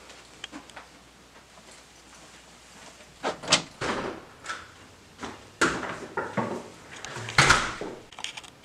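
Wooden door opening nearby with creaks and knocks, several clunks and scrapes building from the middle onward, no talk.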